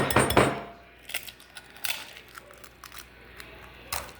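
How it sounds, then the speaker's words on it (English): Egg being mixed into pumpkin cookie batter in a bowl, heard as scattered clinks and scrapes of a utensil against the dish, a louder burst at the start followed by lighter irregular taps, close and without talk. "And then I'm going to mix in 1 egg"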